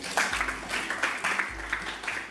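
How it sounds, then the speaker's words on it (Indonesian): Light classroom clapping for a student named Rizky, a faint patter in uneven bursts over a low background hum. "tepuk tangan untuk Rizky"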